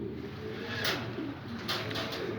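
Domestic pigeon cooing softly in a loft, a few low throaty coos repeated over a steady faint background hum.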